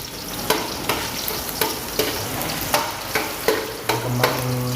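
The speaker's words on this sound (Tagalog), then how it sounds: "Luya muna natin yung ating luya." Ginger sautéing in a pan for chicken tinola, a steady close sizzle broken by sharp, regular stirring scrapes about once a second.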